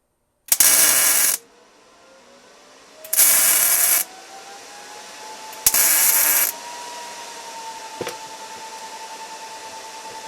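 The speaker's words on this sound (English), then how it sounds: "There is nothing you can do to these that an angle grinder isn't going to take care of in 30 seconds." Three loud, harsh bursts of an angle grinder cutting into a metal lock, each lasting about a second, with the motor whining and spinning down in between.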